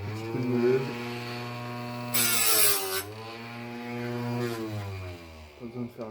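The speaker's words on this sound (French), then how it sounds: "Un petit peu de meuleuse." An angle grinder runs with a steady, close motor whine. A harsh, loud burst of grinding cuts in briefly partway through, then the tool settles back to its even drone.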